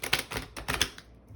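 Tarot cards being shuffled, a quick run of crisp riffling bursts, close and clear, fading out into quiet at the end.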